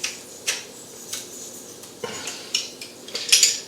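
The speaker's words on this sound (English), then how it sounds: "I'm going to use a garlic press" Metal garlic press working cloves while cooking tomato au gratin, heard as a string of sharp clicks and clacks about every half second, close and fairly quiet, with a denser rattle near the end.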